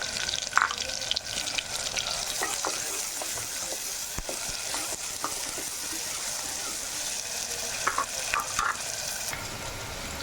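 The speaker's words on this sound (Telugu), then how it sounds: "మీడియం సైజు ఉల్లిపాయ మాత్రం చిన్నగా కట్ చేసుకొని వేసుకోవాలి. అలాగే ఒక 5 పచ్చిమిర్చి కూడా కట్ చేసుకొని వేసుకోవాలి." Finely chopped onion and green chillies fry in hot oil for a mutton curry, a continuous close sizzle with occasional stirring clinks and scrapes, and a voice talks over it at times.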